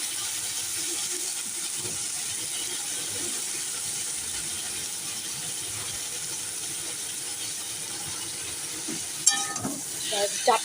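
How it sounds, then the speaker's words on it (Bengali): A pan of vegetables with green chilli sizzles steadily with a continuous hiss of frying, and a few clinks and stirring scrapes come near the end. "আস্তে আস্তে ভাজা হোক"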